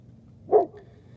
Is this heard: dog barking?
yes